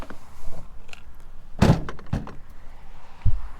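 A small plastic storage top box on an overland vehicle's diesel heater setup is opened, giving a few close thunks and clicks, with one loud clunk of the lid in the middle and a softer knock near the end.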